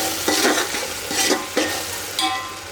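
Green chillies tossed into ginger garlic paste frying for mutton dum biryani, a loud close sizzle with rhythmic rushing stirring strokes about every half second to second.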